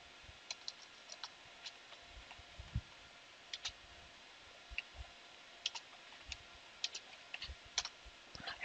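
A computer keyboard is typed on in short irregular bursts of crisp, close key clicks with pauses between, faint background hiss, no voices.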